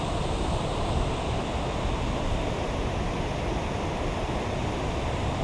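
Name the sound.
shallow river water flowing around feet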